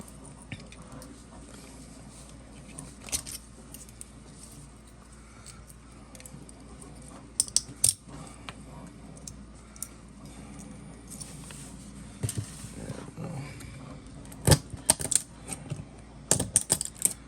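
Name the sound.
small screwdriver prying support material off a 3D print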